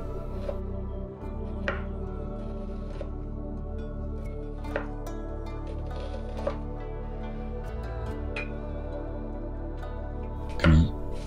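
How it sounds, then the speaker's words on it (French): A knife finely slices a quarter of an onion on a board while bo kho, Vietnamese braised beef, is prepared. Soft, quiet cutting taps come at irregular intervals over a steady low kitchen hum, with no talking. "Pour l'oignon, émincez finement un quart de celui-ci."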